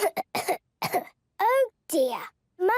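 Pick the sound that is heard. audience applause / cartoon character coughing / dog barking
cartoon character coughing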